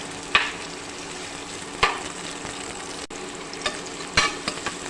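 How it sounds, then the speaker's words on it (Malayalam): A large chopped onion sautés in ghee with a constant close sizzle, punctuated by several sharp spoon scrapes and taps against the pan as it is stirred. "ഒരു വലിയ സവാള അരിഞ്ഞതാണ് ഞാൻ ഈ നെയ്യിലേക്ക് ഇട്ട് വഴക്കി കൊടുക്കാം"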